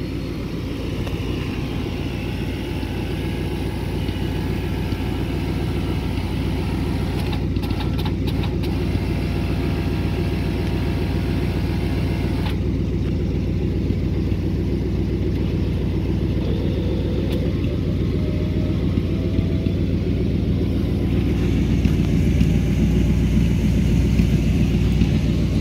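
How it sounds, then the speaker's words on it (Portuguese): A 1958 Ford Fairlane 500 Skyliner's retractable hardtop roof opening, heard as a steady mechanical whir under an idling engine drone, with a few brief clicks partway through and a shifting motor tone later on. "Você abre o teto pra gente, por favor."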